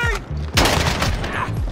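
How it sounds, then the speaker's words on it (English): Designed modern gunshot sound effects in the style of Call of Duty, loud, punchy close-up shots with a sharp crack and a heavy low-end boom, fired in quick succession with a rolling tail. "go over everything I've learned on how to create Call of Duty level gun sounds"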